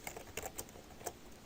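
Computer keyboard typing, a handful of quiet, separate key presses tapped at an uneven rhythm, close and faint with no voices.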